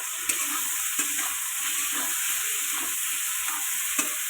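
Potatoes sautéing in a pan with cumin powder: a steady bright sizzle with periodic scraping stirs of a spatula against the pan, close and even throughout with no talk.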